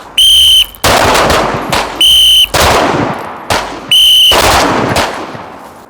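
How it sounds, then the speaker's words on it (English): A sharp whistle blast sounds three times at a tactical pistol course, each followed by a burst of loud, close pistol shots that ring out before the next signal. "2 shots on the whistle"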